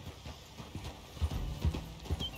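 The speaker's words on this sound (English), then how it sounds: "Okay, get on your horse." Horse hooves trot in a western video game, a steady clip-clop rhythm of soft, close hoofbeats over a constant background hum.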